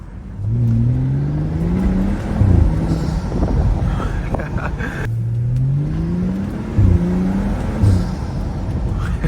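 A BMW N55 car engine revs up twice with rising harmonic tones, the intake roaring loudly and close, with a brief pause between the two accelerations.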